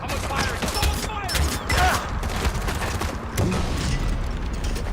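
Gunfire in the video game Far Cry 4: dense, continuous volleys of shots and clattering mechanical noise fill the stretch at steady loudness, with scattered bursts standing out from a rumbling battle backdrop.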